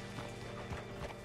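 Horse hooves clip-clopping in the video game Red Dead Redemption 2, a steady walking rhythm of hoof strikes, moderately close, with no talk over it.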